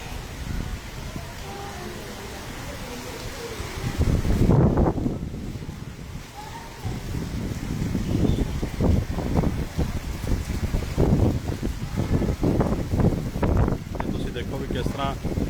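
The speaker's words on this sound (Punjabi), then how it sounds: "ਅੱਜ ਹਵਾ ਇੰਨੀ ਤੇਜ਼ ਹੈ" Strong wind drives heavy monsoon rain in Abohar, a steady broadband roar with gusts buffeting the microphone, rising sharply around the middle and staying loud and rough to the end.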